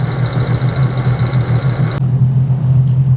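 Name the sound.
Sea-Doo jet ski engine idling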